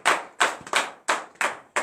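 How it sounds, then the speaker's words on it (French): Congregation at a morning prayer service in Benin claps in unison, six sharp, loud rhythmic beats evenly spaced, with no talking. "donner une vive acclamation à l'Éternel ce matin"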